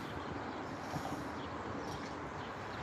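An Amtrak California Zephyr passenger train arrives at the Ottumwa, Iowa station, a continuous broad rumble of rolling cars and wheels at moderate distance with no voices.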